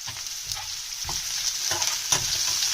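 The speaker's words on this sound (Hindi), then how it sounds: "और ये भी हम स्लो फ्लेम पे इसको फ्राई करेंगे।" Chopped onions frying in a pan over a low flame with green chillies, a steady close sizzle broken by several soft stirring scrapes at regular intervals, with no talk.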